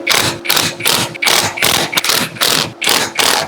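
Car air-conditioning compressor bolts on a Perodua Axia or Viva being tightened in a cross pattern, giving repeated bursts of ratcheting wrench clicks, about eight strokes in steady rhythm, loud and close with no talking.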